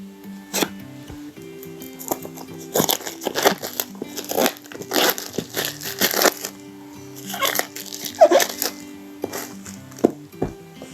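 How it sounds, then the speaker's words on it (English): Sharp scraping and crinkling as the plastic seal on a Redmi Note 9 Pro smartphone box is cut and peeled, irregular bursts of rustling close to the microphone over faint background music. "So let's cut the seal."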